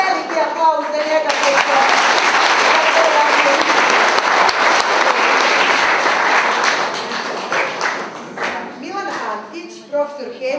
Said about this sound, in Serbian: Jedan veliki aplauz za njega.